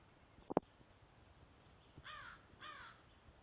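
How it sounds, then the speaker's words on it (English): Two hoarse crow caws ring out in succession at a distance, following a sharp knock, against a quiet forest background in the Whitemud Creek valley. "Overhead, some crows cawed menacingly."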